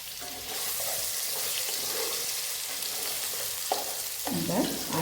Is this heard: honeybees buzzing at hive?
no